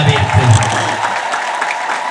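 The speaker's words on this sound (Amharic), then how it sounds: "እንደው ያንሳል ጭብጨባው" A church congregation claps in steady, continuous applause that fills the whole stretch, with a voice carrying over the top.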